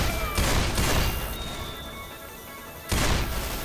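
Loud bursts of gunfire from Left 4 Dead 2 at the Dark Carnival fairgrounds, heavy volleys at the start and again near the end with a quieter rumbling stretch between, no talking.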